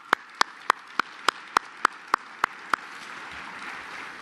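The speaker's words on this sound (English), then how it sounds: "I'd really like to offer a round of applause to CADCA and their staff." A crowd honoring CADCA and its staff at the National Leadership Forum plenary gives about ten sharp, evenly spaced claps in a steady rhythm, then settles into a soft hall murmur.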